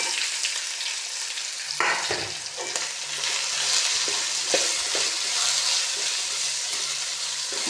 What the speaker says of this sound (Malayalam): നമുക്കതിലേക്ക് സവാളയും സവാള അരിഞ്ഞതും മുളക് അരിഞ്ഞതും ഇട്ട് കൊടുക്കാം